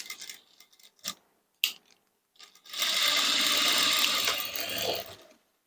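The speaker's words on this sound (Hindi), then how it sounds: "इस तरह से हम इसकी सिलाई लगा रहे हैं।" A sewing machine stitches a blouse neck, a few short taps and clicks first, then a steady whirring run of about three seconds that stops.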